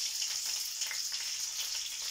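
Garlic fries golden brown in a pan, giving off a continuous close hiss of sizzling oil with small crackles, with no speech.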